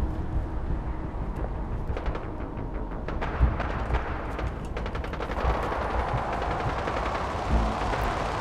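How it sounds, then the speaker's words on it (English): Turret gunfire in Fallout 4's Nuka World, rapid sustained automatic bursts rattling continuously with a few heavier thuds, loud and dense with no talk. "That's a turret."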